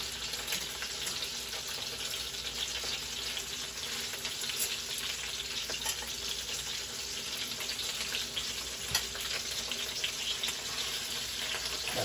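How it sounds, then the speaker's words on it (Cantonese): Marinated pigeon pan-frying over medium-high heat, a steady dense sizzle and spatter of hot oil that runs unbroken throughout with occasional sharper pops. "咁咧就用個中大火嚟煎一煎香佢先，煎完一邊咧再煎一邊。"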